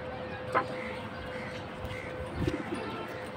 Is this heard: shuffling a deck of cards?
no